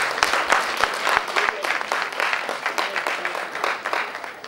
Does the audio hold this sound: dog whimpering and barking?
no